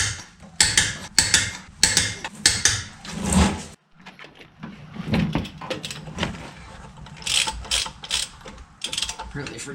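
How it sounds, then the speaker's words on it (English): A torque wrench tightening lug nuts on a 2016 Ford F150, bursts of rapid ratcheting clicks repeated in several strokes, close and fairly loud, a brief pause midway, then more ratcheting. "Torque spec on these lug nuts is 150 foot-pounds, which is as high as my torque wrench goes."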